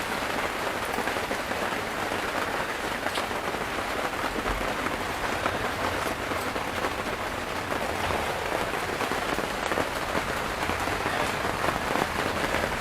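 Steady rain falls outside, a dense, even patter and hiss that continues without break, with no voices.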